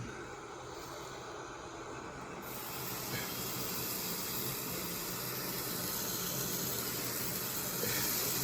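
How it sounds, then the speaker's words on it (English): Bacon sizzles in a pan outdoors in the Ore Mountains of Germany, a steady broadband hiss that swells louder after a couple of seconds and keeps crackling without a break. "Can you throw in the bacon, please, sir?"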